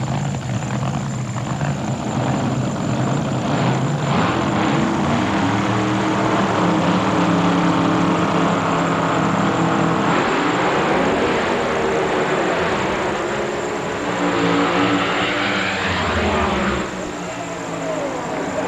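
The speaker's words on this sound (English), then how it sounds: "Here's the final in Top Alcohol Dragster live at the U.S. Nationals." Top Alcohol Dragster final run at the 1995 NHRA U.S. Nationals: a loud, continuous engine roar fills the whole stretch, swelling and shifting in pitch midway as the car pulls away, with no clear break until a drop near the end.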